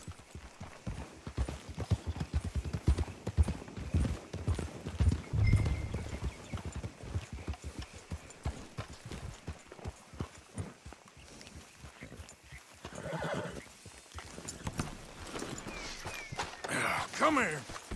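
Horses' hooves clip-clop in an uneven, steady rhythm on the ground in Red Dead Redemption 2, close and fairly loud over eighteen seconds, with occasional voices and a faint whinny toward the end.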